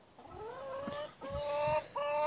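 Hens that have already raised chicks cluck and call in a backyard coop, a few drawn-out, rising vocalizations close by, one after another, with no voices.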